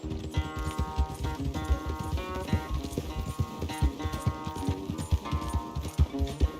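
Horse hooves pound in a fast galloping rhythm during a race in the video game Red Dead Redemption 2, loud and continuous under a busy orchestral music score.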